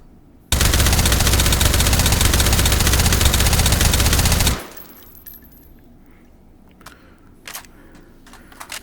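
M4A1 rifle fired in full-auto in Hot Dogs, Horseshoes and Hand Grenades: one loud, unbroken burst lasting about four seconds, then quiet with a few faint mechanical clicks and handling noises.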